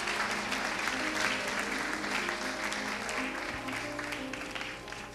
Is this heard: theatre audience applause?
yes